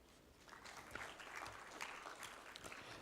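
Faint, distant audience applause for a government minister at a formal legal gathering, a continuous patter of many hands clapping.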